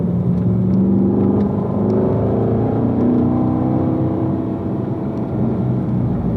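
Race car at Spring Mountain circuit powering out of a corner, a loud continuous engine drone holding steady and rising slightly as it accelerates, close and alone without talk.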